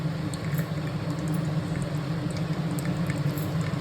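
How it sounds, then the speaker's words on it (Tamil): Whole spices and bay leaf spluttering in hot oil in a pan while making mutton biryani, a dense steady sizzle with small pops, close and continuous. "அது பொரியட்டும். பொரிஞ்சு வர வரையும் நம்ம வெயிட் பண்ணுவோம்."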